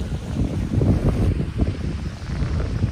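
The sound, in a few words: strong wind at the beach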